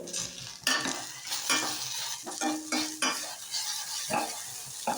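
Okra frying in a pan on medium flame while being stirred, with repeated scraping and clinking of a utensil against the pan over a constant sizzle, close up.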